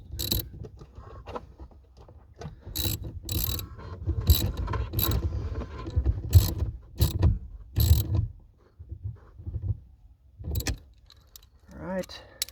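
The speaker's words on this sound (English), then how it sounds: "Let's go ahead and get that on. And we'll tighten that bolt back down." Ratchet tightening a bolt on a 2007 BMW 335i during a steering angle sensor repair, heard as bursts of rapid clicking and metallic handling sounds with pauses between, close by, amid some low background noise.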